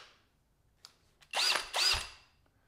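A DCK or Ryobi cordless hammer drill spins up in two short, loud whirring bursts, each revving and winding down, preceded by a few faint clicks in a quiet room.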